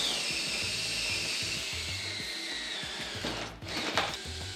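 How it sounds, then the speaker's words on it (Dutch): A power drill bores holes into a door for its bolts, a steady whirring motor with a rough grinding surge near the end, close and loud with no talking. "Teken de gaatjes af voor de patentboutjes en boor de gaatjes in de deur."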